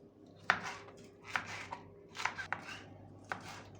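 Knife chopping on a cutting board, a handful of crisp irregular strikes spaced apart, fairly close with light kitchen background hum.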